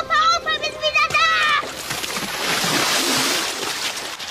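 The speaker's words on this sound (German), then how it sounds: "Opa Brendel ist tatsächlich vor Schreck ins Wasser gefallen" In a German radio play, children shout excitedly, then someone falls into water with a broad sloshing splash that fills the rest of the scene.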